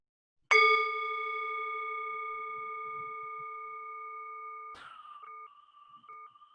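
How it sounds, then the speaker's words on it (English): A single bell struck once during a moment of silence at a gathering, ringing out clearly and decaying slowly over several seconds, followed by a few softer, brief tones. "Let's ring the bell one more time."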